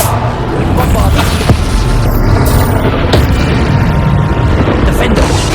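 Blasting spell explosions from Hogwarts Legacy, booming bursts over a dense, steady rumble of game combat, with a few sharper transients standing out; a voice speaks over the action.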